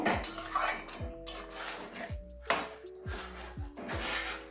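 Metal cookware clatters in a home kitchen as a lid goes onto a pot of potatoes left to boil, with several sharp clanks and rattles spread across a few seconds, fairly quiet and close, without talk.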